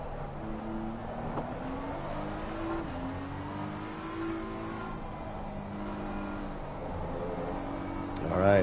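Engine of a BMW race car on the Nürburgring GP circuit in Assetto Corsa Competizione, a steady droning note that rises and shifts through gear changes, with voices talking over it throughout.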